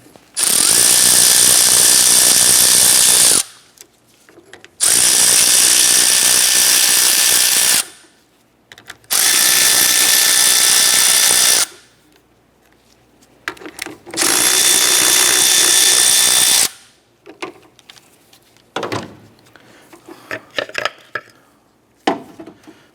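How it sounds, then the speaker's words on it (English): Power tool such as an impact driver with a 10mm socket spinning out the four fan clutch bolts on a 1993-1997 Ford Ranger: four loud sustained whirring bursts of about three seconds each, separated by pauses, then quieter clinks and handling noises. "Using a 10mm socket, let's remove the 4 bolts on the back of the fan."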